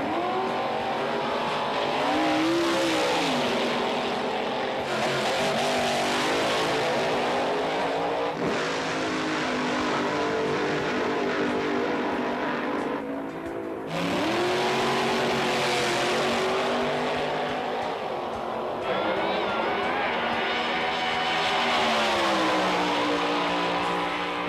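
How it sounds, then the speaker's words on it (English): Top fuel dragsters at a drag race, loud sustained engine roars in repeated passes that rise and fall in pitch, filling the whole stretch with barely a break between runs. "the kings of the quarter mile are the top fuel cars"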